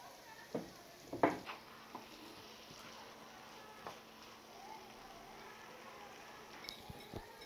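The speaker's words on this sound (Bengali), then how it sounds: "তো আমি এবার এই মশলাটাকে ভালোভাবে কষিয়ে নিচ্ছি" Spice paste with ripe tomato fries in a pan for Bangladeshi meat jhal pitha, a soft, faint sizzle under occasional stirring scrapes and clicks.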